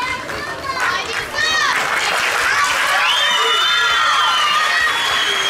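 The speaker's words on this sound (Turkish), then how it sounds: "niye alkışlıyorsunuz ki?" Audience at a sports festival karate demonstration claps and cheers loudly, a dense burst of applause with excited high voices swelling after a brief quieter start and holding steady to the end.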